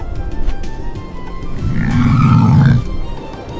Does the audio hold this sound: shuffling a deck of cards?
no